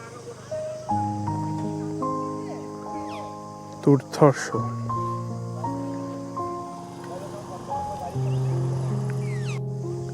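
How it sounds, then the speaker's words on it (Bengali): Birds calling among tall trees beside a hillside tea garden in North Bengal, brief chirps and sweeping calls rising now and then while someone talks nearby over a quiet outdoor background. "শুনছেন পাখির আওয়াজটা"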